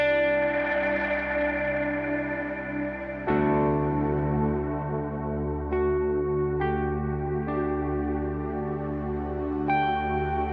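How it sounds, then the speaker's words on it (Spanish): Electric guitar through a Frozen Textures effects preset layered with ambient pads in a worship style, sustained shimmering chords with long echoing decay and new notes entering every second or so. "hay un preset que me gusta que se llama Frozen Textures, que ya lo trae conjunto con los pads y que suena de la siguiente manera"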